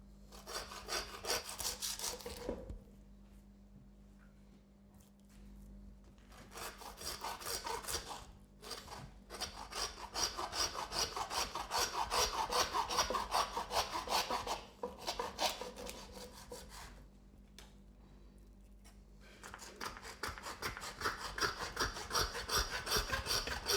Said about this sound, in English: Now I've cut the meat, I'm going to use my saw to cut the bone.